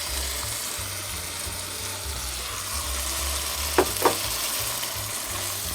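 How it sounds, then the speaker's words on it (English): Tomato sauce and pinto beans go into a hot pan and sizzle steadily up close, with two quick clinks of a utensil near the end and no talking. "We're going to add in our tomato sauce and also our pinto beans."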